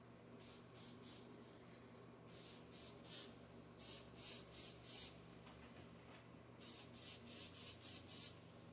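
Short, quiet bursts of an aerosol can of spray glue coating foam, in quick rhythmic groups of puffs, close up against a faint background hum.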